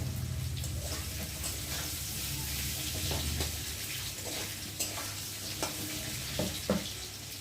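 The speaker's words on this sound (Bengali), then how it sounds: "আলু ভাজা হচ্ছে" Boiled potatoes frying in oil in a pan give a continuous moderate sizzle, with a few sharp clicks of a spatula stirring near the end, heard close with no talking.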